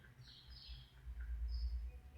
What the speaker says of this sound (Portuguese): Ouvi o canto dos pássaros do lado de fora da igreja.